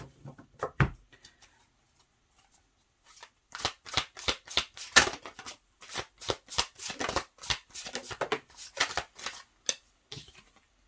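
Tarot cards are shuffled and handled close up: a few light taps, a pause of near silence, then a rapid run of crisp riffling bursts and slaps in quick succession, with no talking.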